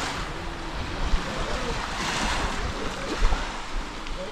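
Ocean surf and wind on a beach in South Phu Quoc, Vietnam, with a continuous wash of waves and a few louder surges; any boat engines are lost in the broad water and wind noise.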